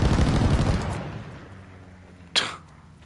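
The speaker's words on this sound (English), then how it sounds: "Your teammate called an airstrike." Airstrike in the shooter game Call of Duty: heavy rumbling blasts fill the first second, then fade into a low, decaying boom, followed by one sharp, loud crack near the end; no one talks.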